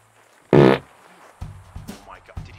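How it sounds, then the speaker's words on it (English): Someone farts inside a hazmat suit, a short loud buzzing blast, followed by rustling of the suit material and a few faint knocks and bumps. "did he just fart in there?"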